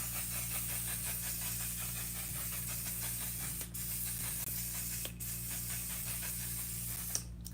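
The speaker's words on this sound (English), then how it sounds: "The last little thing I think I would say is take a good setting spray." A long, steady makeup setting spray hiss sounds close and alone, with no talking, only a few brief clicks breaking through near the end.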